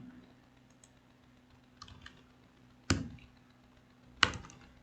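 Keystrokes on a computer keyboard while HTML code is written, a few soft taps followed by two sharper, louder clicks spaced apart over a faint steady hum, with no voice.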